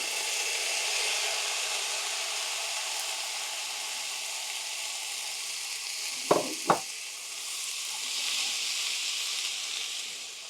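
Pre-cooked prawns sizzle in a Sri Lankan style curry pan with browning nuts and spices: a soft, even frying hiss, with two quick utensil clacks partway through.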